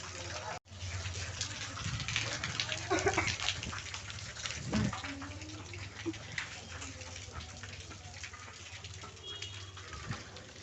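Rainwater flows and gushes steadily during a downpour, a continuous wet rushing wash with a few louder splashes and knocks, fairly close, with occasional voices in the background.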